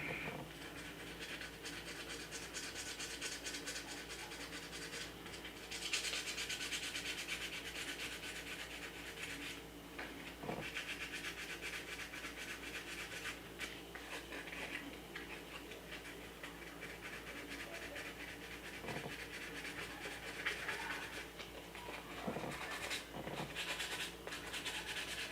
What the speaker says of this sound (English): I'm not putting any pressure, I'm just letting the sandpaper do the work